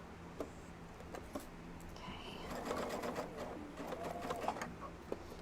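A sewing machine stitches a puff quilt in steady bursts of whirring needle runs, close and moderately loud, with brief pauses between the runs and small handling knocks.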